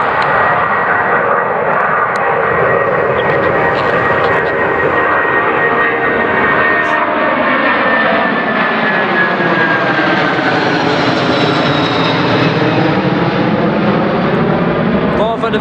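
A Boeing 747 jet airliner takes off and climbs, its engines roaring loud and continuous with a slowly shifting whine as it departs.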